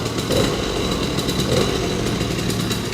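Small 1974 Honda MR50 Elsinore two-stroke motorcycle engine running steadily, a dense buzzing drone with slight revving swells, close and loud throughout with no talk.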